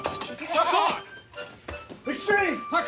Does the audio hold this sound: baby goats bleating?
yes